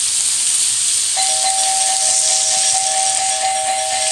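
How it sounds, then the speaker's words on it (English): A doorbell rings repeatedly in quick electronic tones over a loud, constant hiss of cooking in a kitchen, like something sizzling or steaming nearby. "why people ring your doorbell like that?"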